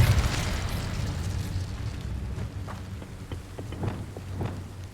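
A fiery burst from the Incendio spell in Hogwarts Legacy opens loud and close, then gives way to a low crackling rumble with a few faint pops and thumps.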